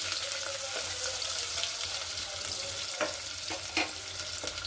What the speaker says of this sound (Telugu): కొంచెం బాగా కొంచెం రోస్ట్ కావాలి ఉల్లిగడ్డలు